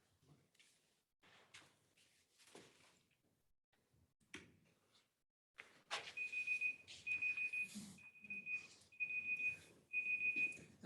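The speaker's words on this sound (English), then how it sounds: "If it beeps once more, then you're done." A high electronic beep repeats in a regular rhythmic pattern of short pulses, preceded by quiet clicks and rustling handling noises.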